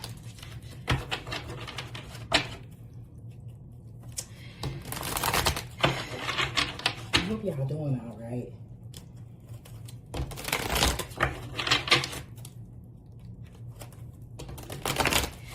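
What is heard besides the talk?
shuffling a brand new tarot card deck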